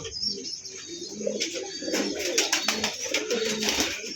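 Pigeons coo in soft, repeated low calls, close by, mixed with light chirps and a rustle of wings.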